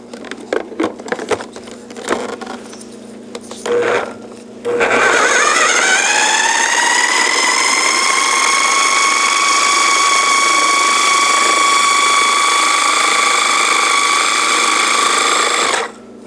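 A food processor grinds half a cup of soaked walnuts, starting after a few seconds of clatter and bumps, then running as a loud, steady whirring motor that holds for about eleven seconds before stopping abruptly.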